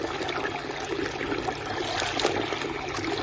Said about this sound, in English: now we place our pump on the water